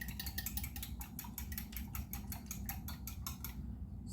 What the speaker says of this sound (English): you just whisk it together